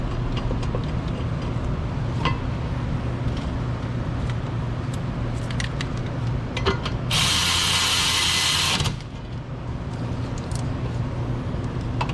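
Ratchet tightening the caliper mounting bracket bolts on a Subaru Outback's rear brakes during a rotor replacement: a run of quick clicks, with a loud broadband hiss burst in the middle, and no talking.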